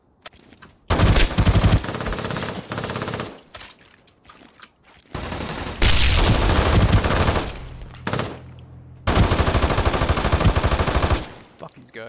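Bursts of MG4 machine gun fire in a video game firefight, loud sustained volleys in three long strings separated by brief pauses, with faint talk between.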